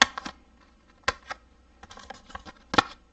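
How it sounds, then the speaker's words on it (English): Small scissors snipping Stampin' Dimensionals foam adhesive pieces in half for a papercraft kit: a close, quiet series of crisp, irregular clicks and snips with short pauses between them. "So I just snip along here"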